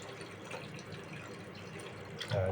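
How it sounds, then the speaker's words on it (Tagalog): Broth poured into a cooking pot, a soft continuous watery trickle at low level that swells into a louder gush near the end. "Lalagyan pa tayo ng sabaw."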